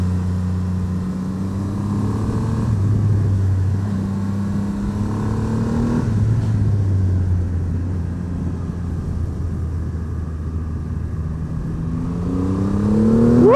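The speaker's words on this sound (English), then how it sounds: "Never gets old accelerating on this bike." Triumph Rocket 3 GT motorcycle accelerating hard, its engine note climbing through gear changes with rising harmonics near the end, steady and close under wind rush, no talking.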